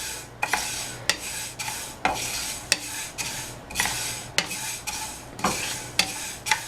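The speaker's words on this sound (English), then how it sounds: "So you just dry roast these for 2 to 3 minutes until your seeds get a little brownish" Seeds dry roasting in a pan while being stirred, with regular scraping strokes and light rattling, each stroke about half a second to a second apart, close and clear with no talk.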